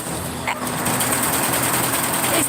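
A sewing machine runs continuously at close range, a steady, fast mechanical whir and rattle that holds an even level throughout.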